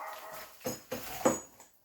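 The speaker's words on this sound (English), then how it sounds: "My dog is barking, and it's 1 a.m." A dog barks late at night, three sharp separate barks with soft whimpery yips between them, fairly close and clear with no talking over them.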